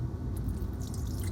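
Dirty black ink water being washed out of a brush jar after an inking session, a steady close-up squishing, sloshing and dripping of liquid throughout, with no one talking.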